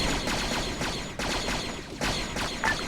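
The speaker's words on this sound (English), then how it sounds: "I'm hearing gunshots." Star Wars video game gunfire on the Honoghr map, a steady wash of blaster and gun bursts with repeated sharp onsets roughly every second, fairly faint and continuous with no voices.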